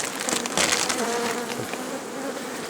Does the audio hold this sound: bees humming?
yes